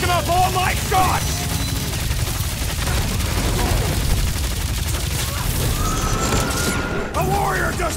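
Rapid, dense gunfire in Marvel's Guardians of the Galaxy video game, with sustained bursts and booms under character dialogue and game music.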